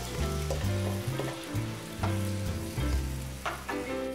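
Porcini mushrooms fry in a hot pan with a continuous loud sizzle, broken by stirring scrapes and bursts of spitting oil.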